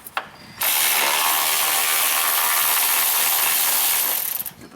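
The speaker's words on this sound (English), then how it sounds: "Get this last bolt out" A ratchet wrench with a 10mm socket works a bolt loose on a Jeep Grand Cherokee, a steady, loud, close-up run of rapid clicking that lasts several seconds before stopping.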